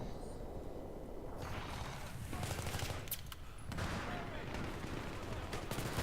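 Bursts of gunfire crackle in a Battlefield firefight, rapid automatic shots in clusters over a steady rumbling battle background, moderately loud and fairly continuous.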